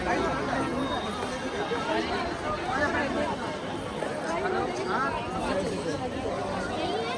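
Dense crowd babble fills the grounds of Prem Mandir temple in Vrindavan, a steady outdoor hubbub of many overlapping voices at moderate distance, with no single speaker standing out.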